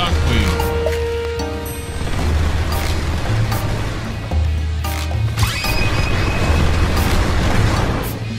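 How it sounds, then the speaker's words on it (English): Blox Fruits awakened leopard dash attack: a dense barrage of repeated crashing and booming game effects builds over a steady low rumble, with bright impact bursts and a heavy shockwave-like blast, loud and continuous throughout. "Dash in with the crazy barrage and it ends with the fiery shockwave."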